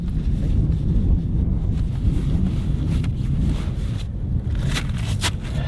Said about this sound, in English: Cut that wind out.